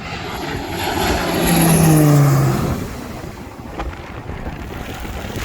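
A propeller firefighting aircraft roars overhead during a wildfire near Beljakovce, North Macedonia, its engine swelling loud then fading into the distance, with wind buffeting the microphone.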